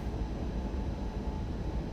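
A DB BR 101 electric locomotive in Train Sim World 2 gives off a steady, dense low rumble and hum, loud and continuous with no breaks and no voices.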